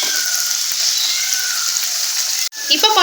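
Potatoes fry lightly in hot oil for a potato egg curry, a loud, steady hissing sizzle that breaks off briefly near the end before resuming with a bit of clatter.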